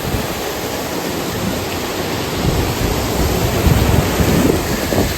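Steady rushing roar of a waterfall pouring down into a small pool outdoors, a dense continuous wash of water noise with slight swells, heard up close and without voices.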